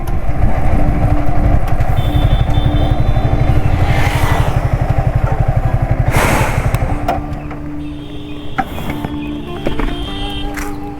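Yamaha R15 V3 motorcycle after a full service, its engine running close by with a fast, steady pulsing thrum that eases to a lower, quieter idle toward the end.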